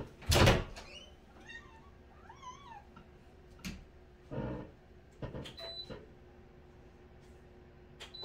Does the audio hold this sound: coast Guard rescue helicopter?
no